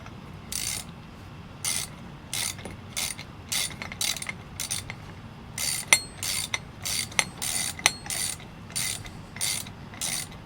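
A nut is turned and tightened onto a bolt on a hand-built mini hunting stick, making repeated close ratcheting clicks in short, evenly spaced bursts, with no talking.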